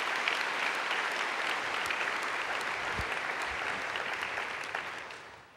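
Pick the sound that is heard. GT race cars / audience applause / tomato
audience applause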